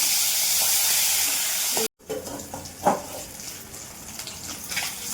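Fish fries in a pan for a Bengali fish curry, partly covered, with a loud steady hissing sizzle that cuts off abruptly, then returns as a quieter, spitting crackle.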